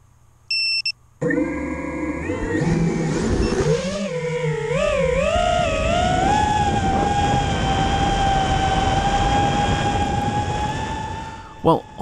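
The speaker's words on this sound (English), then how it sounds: "I just wanted you to hear the sound of those motors. They really are quite unique in how they sound. They give a very satisfying, purry, smooth noise." A HolyBro Kopis 2 quadcopter with a GoPro Session aboard spins up and flies, its motors giving a smooth, purring whine that rises in pitch and wavers as it manoeuvres, loud and close, after a few short electronic beeps at the start.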